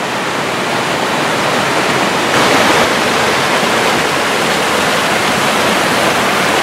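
A waterfall in the San Gorgonio range during flash flooding roars as a dense, steady rush of falling water, loud and close, with a brief surge partway through and no voices.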